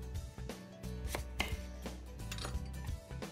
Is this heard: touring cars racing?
no